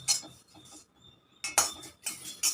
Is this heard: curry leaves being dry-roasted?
yes